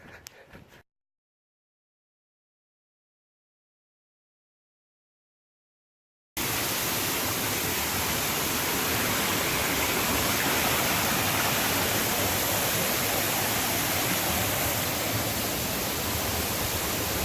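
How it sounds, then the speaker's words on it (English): A waterfall in Royal Natal National Park in the Drakensberg, swollen by heavy rain, roars as a loud, steady, dense rush that starts abruptly after a brief quiet stretch and continues unbroken to the end. "Normally in lower rain season, you don't get this kind of fall of water, but it's been raining a lot."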